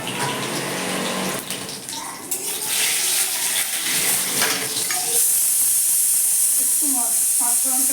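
Dried red chillies and bay leaves hit hot oil as a tempering for a vegetable and matar dal, setting off a loud, hissing sizzle that swells and crackles, with spluttering pops rising near the end, close-up.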